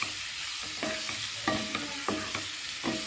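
A rice flour mixture with cooked balls is stirred in a pan, giving close, loud scraping and sizzling strokes that repeat about every half second over a steady frying hiss.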